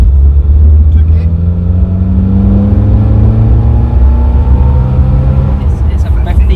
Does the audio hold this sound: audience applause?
no